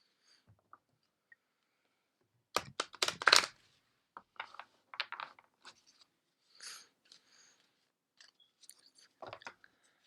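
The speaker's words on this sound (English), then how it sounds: "so let's shuffle this deck up." A deck of oracle cards is shuffled by hand, producing soft, close, irregular bursts of papery riffling and tapping against a quiet background.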